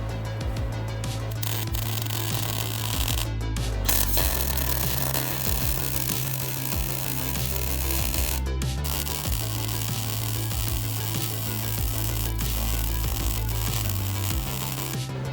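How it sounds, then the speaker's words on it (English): Continuous crackling MIG-style welding of brackets onto a Jeep YJ Dana 60 front axle outdoors in the cold, a steady loud buzzing hiss that runs almost without break, with brief pauses between beads. "Let's just freaking weld them."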